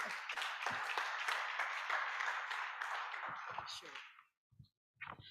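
Audience applause at an oil and gas roundtable event welcoming the project manager, a steady wash of clapping for about four seconds that fades out, followed by a few isolated sounds and a voice.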